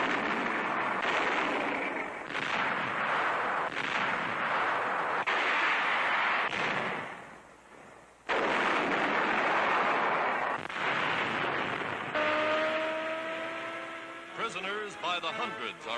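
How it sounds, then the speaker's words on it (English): Allied tanks and guns fire during the Tunisian Campaign in a series of loud, booming blasts, each followed by a rolling rumble, with a short lull between volleys, under a narrator's voice. "Allied tanks and guns take up the fight."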